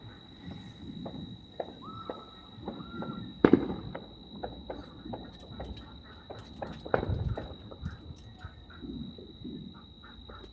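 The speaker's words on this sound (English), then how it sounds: "I can all hear the firecrackers." Scattered Fourth of July firecracker pops and bangs at irregular intervals, one sharp loud crack standing out among fainter distant bursts, with a steady high tone behind.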